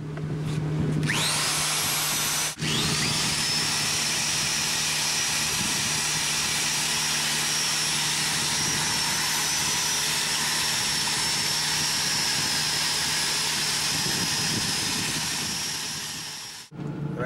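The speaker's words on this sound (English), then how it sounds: "then we'll move on to the wire wheel" An angle grinder fitted with a wire wheel spins up and runs against metal in a loud, steady, high whine with a harsh brushing roar, close by and continuous before cutting off.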